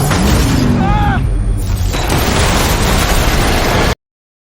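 Loud bursts of gunfire and booming impacts crash through a dense film action mix, with a short voice cry early on, before cutting off abruptly.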